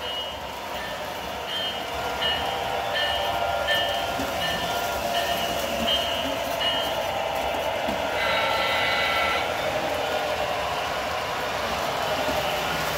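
A Lionel model train rumbles steadily along, with repeated electronic beeping tones and a stretch of hissing sound effects, continuous and close.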